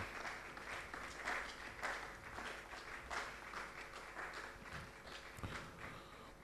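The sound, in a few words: audience round of applause for panelists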